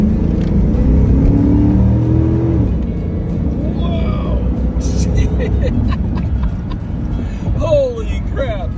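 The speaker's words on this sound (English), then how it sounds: "Let's give it some gas." A 1986 Chevrolet Corvette C4 convertible pace car accelerating hard, its engine rumbling loud and close as revs climb, with people talking and exclaiming over the sustained roar.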